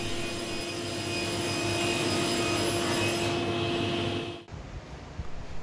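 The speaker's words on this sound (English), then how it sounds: "Then cutting the dividers on the table saw" A table saw rips through wooden dividers with a loud, steady whine and grinding rasp for about four seconds, then drops off sharply as the cut ends, leaving a quieter motor hum.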